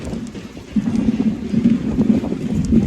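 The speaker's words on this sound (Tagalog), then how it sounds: "Ang lakas ng hangin!" Strong wind in Luneta Park buffets the microphone in low, rumbling gusts, with a steady roar underneath.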